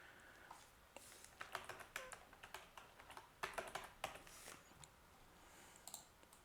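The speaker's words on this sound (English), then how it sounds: "Maybe let's try typing." Typing on a computer keyboard while setting up Windows 95, with quick irregular bursts of close key clicks separated by brief pauses, faint and alone.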